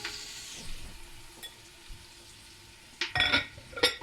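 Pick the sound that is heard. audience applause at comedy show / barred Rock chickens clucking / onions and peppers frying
onions and peppers frying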